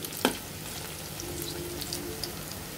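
Water lily fritters in a rice-flour batter frying in a pan over medium-low heat, giving a steady, soft sizzle with faint crackles and a brief sharper knock near the start, no voices.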